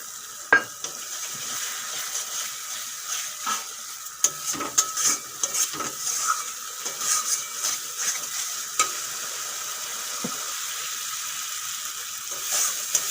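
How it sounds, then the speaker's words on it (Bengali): Cashew and melon seed paste going into sizzling masala for an egg and potato curry, with steady frying hiss and frequent clinks and scrapes of a spoon stirring in the pan, no talk. "এখন দিয়ে দেবো কাজু বাদাম আর চাল মগজ বাটা একটু বাটিটা ধুয়ে জলও দিয়ে দেবো"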